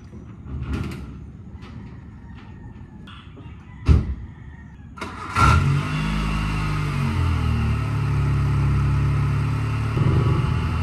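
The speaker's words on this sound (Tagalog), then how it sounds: "engine warm up" A car engine, apparently a Nissan B14, cranks to life in the early morning and settles into a steady, close idle after a few door and handling knocks.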